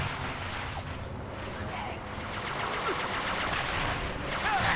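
A mounted machine gun in Halo 3 rattles off rapid, sustained bursts amid dense battle noise, with voices talking over the gunfire.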